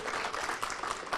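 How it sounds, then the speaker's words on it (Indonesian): Audience at a book discussion event applauds a university dean, a dense patter of clapping from many hands that stays fairly faint and even through a brief moment. "Ya, itu tepuk tangan untuk Prof. Yodi ya."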